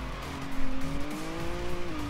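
Race car tires squealing in Forza Horizon 3, a sustained, steady tonal screech held for about two seconds over a loud engine drone, fairly close and with no talk.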